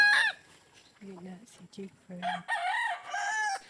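Close chickens clucking and crowing in short bursts on a farm, a high rooster-like call starting and ending the sequence.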